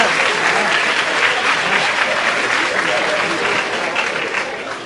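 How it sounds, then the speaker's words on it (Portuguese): Audience applause fills a stand-up comedy show, a dense, loud, steady clatter of clapping from the crowd that holds evenly for about five seconds and eases slightly at the end. "vocês estão aplaudindo"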